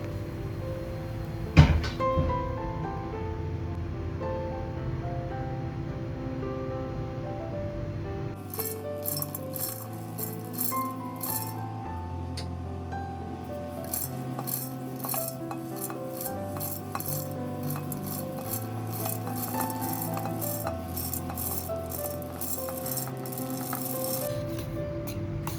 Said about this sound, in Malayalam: ഒന്ന് തണുത്ത് വന്നതിന് ശേഷം ഒരു മിക്സിയുടെ ജാറിലേക്ക് ഇട്ട് നന്നായി ഒന്ന് പൊടിച്ചെടുക്കാം